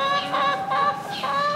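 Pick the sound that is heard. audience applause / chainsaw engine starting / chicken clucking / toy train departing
chicken clucking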